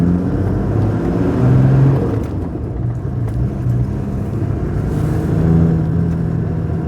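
Icelandic-spec Toyota Land Cruiser Troop Carrier driving on narrow mid-Wales lanes, with a steady low engine rumble and drone that rises slightly in places, continuous and fairly close with no talking.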